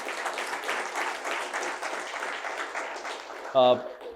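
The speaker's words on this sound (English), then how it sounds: "Round of applause." Audience applause closing a TiE Mysuru business masterclass on AI and agents, steady dense clapping from a seated crowd with murmuring voices, a brief sharp tone near the end.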